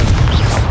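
A Confringo spell explosion in the Hogwarts Legacy video game, one short loud booming burst with heavy low rumble lasting under a second.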